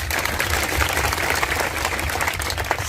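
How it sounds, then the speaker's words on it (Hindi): Loud, dense applause from a large crowd at a public gathering, steady and sustained throughout without a break. "सबके लिए भी जोरदार तालियां।"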